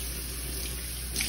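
Warm water runs steadily from a sink tap while a chihuahua is readied for a wash, a close, continuous hiss with no break.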